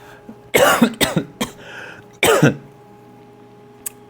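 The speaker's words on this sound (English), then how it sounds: "I'm gonna cough 1 second." A person coughs up close, a sharp burst of three or four quick coughs followed by a pause and one more harsh cough, in an otherwise quiet room.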